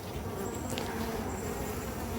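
Honeybees in an open summer hive produce a steady, dense buzz that fills the whole clip, close and unbroken, with no voices over it.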